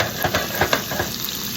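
Swordfish cooks in a pan for a Sicilian Messinese-style dish with salt and peperoncino, producing a brief, loud, close sizzle punctuated by a few quick bursts of spattering.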